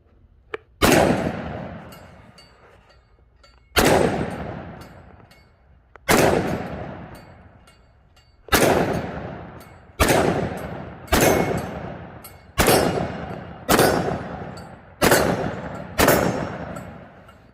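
A 10mm pistol fires hot full metal jacket flat-point hand loads: nine sharp, loud shots with ringing decays, spaced a few seconds apart at first and then coming faster in a quicker string.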